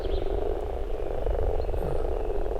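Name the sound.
common frog croaking at spawning pond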